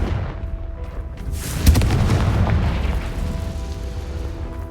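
The Confringo fire blast spell bursts in Hogwarts Legacy with a sharp crack, then a heavy rumbling boom that rolls on and slowly fades.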